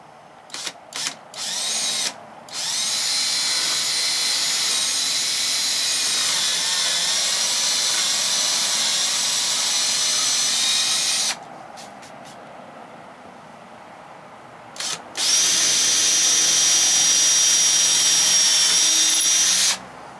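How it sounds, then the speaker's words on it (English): Power drill boring holes in wood for handles on a Promaster van bed platform, with long steady whining runs broken by short bursts and pauses, loud and close. "So I've got my drill bit and ready to start drilling some holes."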